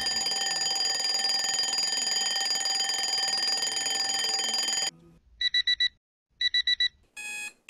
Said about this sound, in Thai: ถ้าบังได้ยินเสียงนาฬิกาปลุกมันดังตอนซูโบเนี่ย